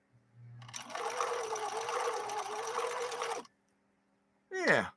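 A 3010 model sewing machine stitches a wide zigzag with its cam selector set to zigzag, making a steady, fairly loud mechanical whir for about three seconds that stops abruptly, followed by a brief separate burst of sound.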